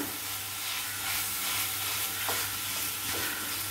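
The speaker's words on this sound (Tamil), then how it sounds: "இப்போ இந்த ஸ்டேஜில் வந்து நம்ம வெள்ளாம்பழத்தை ஆட் பண்ணிக்கலாம். இதை வந்து இதில் மிக்ஸ் பண்ணி விடுங்க." Wood apple pulp being stirred into a chutney in a hot pan, a steady soft sizzle with faint scraping of the spoon, close and continuous without any voices.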